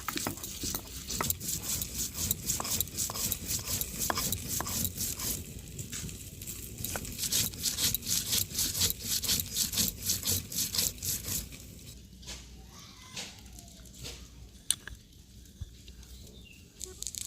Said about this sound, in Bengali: এই যে লঙ্কাটা বেটে নিচ্ছি